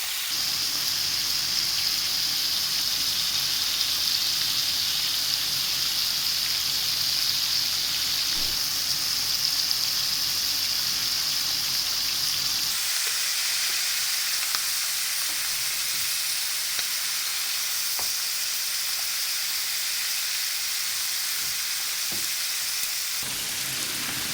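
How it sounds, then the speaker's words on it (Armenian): Chicken pieces frying in a pan, a steady close sizzle and crackle running throughout, easing somewhat partway through but continuing alone without any talking. "Սիրելիները սկզբից երեսը չենք ծախում, թողնում ենք, որպեսզի հավի միսը լավ կարմրի, բոլոր կողմերից կարմրացնում ենք։"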